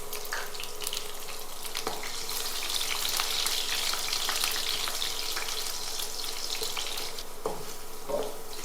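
Finely chopped garlic fries in oil for a fish gravy, a steady close sizzle and bubbling hiss lasting throughout, with a few light knocks and scrapes of stirring and no voices.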